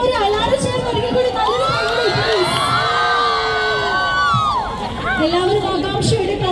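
A crowd at a stage event cheers and shouts loudly, with high children's voices rising above a dense wash of chatter that goes on throughout.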